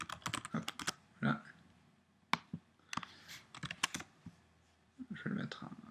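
Keys on a computer keyboard are tapped in quick bursts and scattered single clicks while someone speaks French between the typing.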